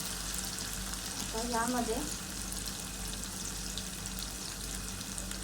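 Food frying in a pan while being stirred, a steady close sizzle with a brief scraping stir in the middle; a voice speaks briefly.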